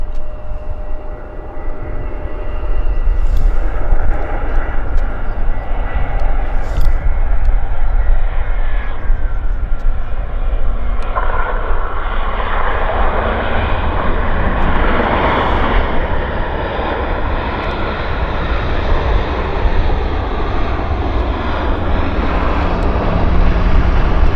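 An Air Canada Airbus airliner on short final lands at Vancouver airport, its engines a loud, continuous roar that rises and swells across the whole stretch, with faint speech under it.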